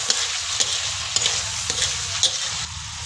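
Fresh miki noodles for pancit being stirred in a hot pan, continuous sizzling with quick repeated utensil scrapes and clicks close by.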